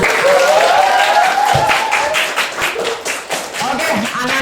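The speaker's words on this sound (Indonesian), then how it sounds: "Oke, tepuk tangan terlebih dahulu." A classroom of students claps together in a loud, dense burst of applause at the start of a school lesson. Voices mix in over the clapping.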